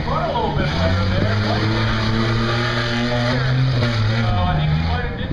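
A drag racing vehicle, a two-wheel-drive car, roars steadily through a run at Buck Motorsports Park, its engine tone climbing and shifting while a commentator talks over it.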